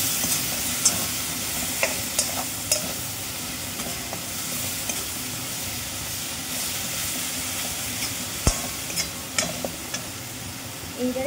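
Tomato, onion, green chili and grated ginger frying in a pan give off a continuous close sizzle and hiss, broken by scattered clicks and taps from stirring.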